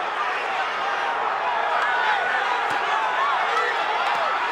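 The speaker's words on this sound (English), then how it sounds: "The crowd going crazy" Boxing arena crowd roaring and cheering in a steady, dense wall of noise during a championship bout between Diego Corrales and Jose Luis Castillo, loud and sustained with a commentator's voice blending in.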